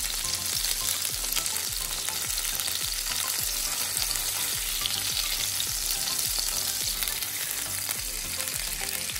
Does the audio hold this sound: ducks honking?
no